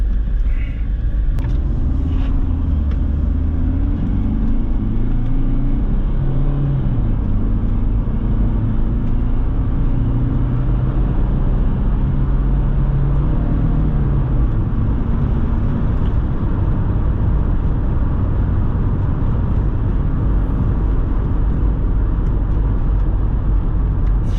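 A Mercedes C220CDI diesel car, tuned to be quicker, drives along with a steady, loud engine rumble and road noise from inside the cabin, its pitch rising and falling with gear changes throughout.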